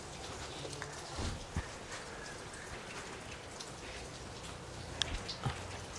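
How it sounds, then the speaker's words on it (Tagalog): Steady rain pours down with scattered drops striking a surface, a constant wash of noise with a few sharper taps. "Lakas ng ulan, umaanggi dito sa loob."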